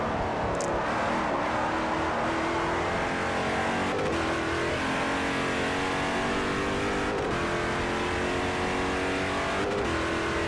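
Race car engine in Forza Motorsport 4, an LMP2 prototype at the start of a multi-class event, revving hard and climbing through gears with steady rising pitch, a few brief shift dips, loud and continuous with no talk.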